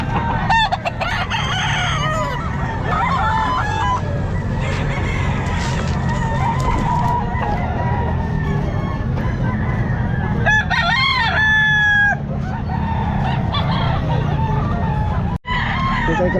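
Labuyo-type rooster at a pet market crowing several times up close, with other chickens clucking and crowing around it amid steady market background noise.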